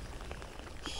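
Steady February rain hisses and patters close by outdoors in calm air, a dense wash of drops with a few brief splashes standing out.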